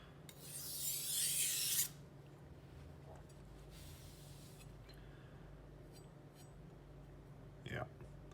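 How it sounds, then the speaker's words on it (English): A kitchen knife edge drawn along a sharpening stone gives one loud gritty rasping stroke lasting under two seconds, followed by quieter handling noises and a short scrape near the end. "so we might do one more little sort of edge leading stroke"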